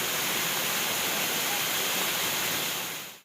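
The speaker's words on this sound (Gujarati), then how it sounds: "નદી નાળાઓમાં પણ હાલ ધસમસતા પાણીના પૂર આવી ચૂક્યા છે" Rushing floodwater from heavy monsoon rain in the rivers and streams of Dwarka district roars as a loud, continuous broadband rush that cuts off abruptly at the end.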